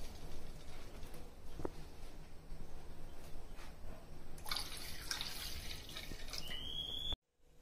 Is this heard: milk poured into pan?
yes